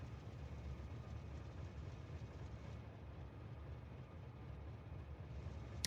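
A train running on rails in a video game with a faint, steady low rumble and soft rolling clatter that continues evenly throughout, with no voices over it.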